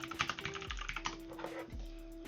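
Rapid keystrokes on a computer keyboard rattle close by in uneven bursts, clicks clustered early then thinning, with a faint background hum and no voices.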